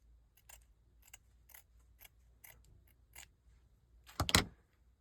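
Scissors snip through fleece fabric in a series of soft, close, evenly spaced cuts, ending with a louder double snip; no voices.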